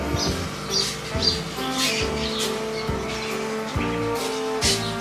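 Caged birds in a pet shop chirp and tweet in short bright bursts that come again and again over a busy, humming indoor background. No one speaks.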